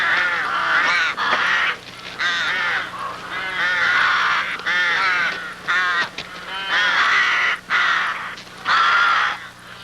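Rooks caw harshly and repeatedly at a crowded nest, loud overlapping calls in bursts with brief pauses, the birds scuffling and squabbling close by.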